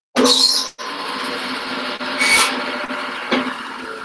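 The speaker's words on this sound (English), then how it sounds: "Let me hop on the bandsaw just 2 seconds here." A bandsaw cuts through a poplar wooden dowel, giving a steady, close rasping whine that holds for several seconds after a brief start, with small surges in the middle of the cut.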